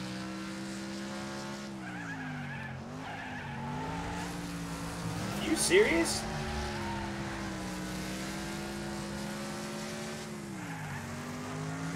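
Cars racing in a video game, engines droning steadily with shifting pitch as they accelerate, and a short burst of tire squeal and skidding midway; a voice speaks briefly over the engine noise.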